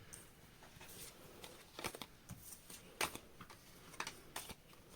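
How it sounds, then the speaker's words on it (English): A deck of cards being shuffled during a tarot-style card reading, with soft repeated riffles and snapping flicks in quick bursts, close and fairly quiet, no talking. "Okay, last shuffle."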